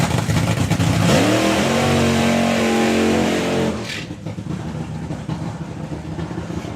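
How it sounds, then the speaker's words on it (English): Nostalgia funny car at a drag racing event revs hard with rising, harmonic-rich engine tones, then the loud roar cuts back to a rougher, lower rumble for the rest, close and dominant without talk. "Nostalgia funny car."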